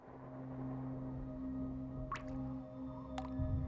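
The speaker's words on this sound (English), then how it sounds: "The jam is dripping." Jam dripping onto shoes in the Jenny LeClue video game: two faint, brief wet drips land a second apart over a low, steady background hum.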